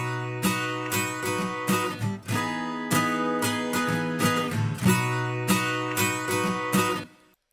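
An acoustic guitar track run through a compressor plugin with a slow attack setting, strummed in steady chords with sharp, regular attacks and ringing sustain, played alone and up close.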